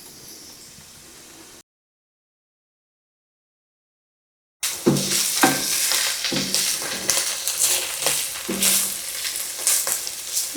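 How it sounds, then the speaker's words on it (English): Vegetables sauté in olive oil with a bright, steady sizzle and occasional stirring scrapes, close and fairly loud after a brief silent gap. "So let them get all mixed up in that olive oil, and I'm going to let these saute for about 3 minutes, maybe 4 minutes."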